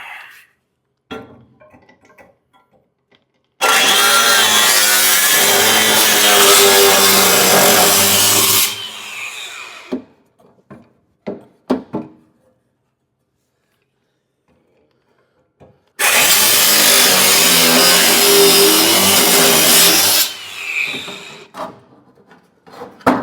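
Angle grinder fitted with a 5.5 inch cutting disc slicing through metal during work on a 1972 AMC Javelin, two loud sustained bursts of several seconds each, separated by quiet stretches with light handling clatter.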